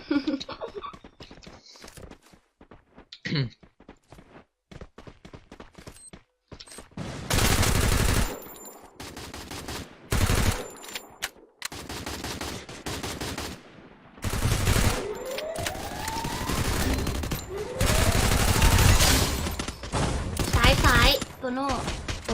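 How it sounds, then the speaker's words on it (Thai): Automatic weapons fire in the battle royale shooter Free Fire during a 4v4 Clash Squad match: loud, close bursts of rapid shots and single cracks come in clusters, broken by short quiet gaps. "รอบนี้ได้นะได้ยิงแน่นอน ใช่ได้ยิงแต่ไม่รู้ว่ายิงตายไหม"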